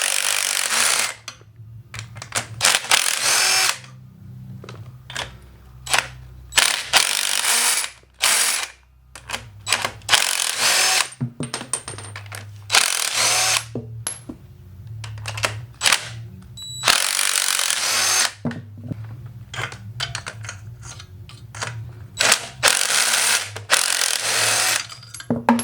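Bursts of rapid ratchet clicking from a hand ratchet loosening engine bolts on a Bonneville SSEi 3800 Series II V6 during a top-end swap, repeated in close, loud runs separated by short pauses.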